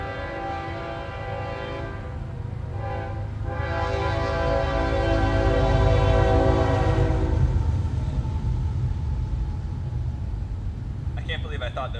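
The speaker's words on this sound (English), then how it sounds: "Cheers to this train." A train rumbles steadily past in a desert setting while its horn sounds in long sustained blasts over the first several seconds, the rolling clatter swelling and lingering near and loud.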